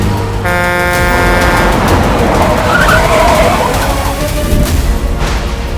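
A car races along at speed with a continuous loud engine roar, a blaring horn near the start and screeching tire skids over the busy noise.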